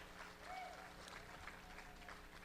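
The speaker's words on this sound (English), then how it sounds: "Let's give her a round of applause." A crowd at a state FFA awards program applauds an honoree, a faint, distant wash of many hands clapping steadily, muffled under a low hum.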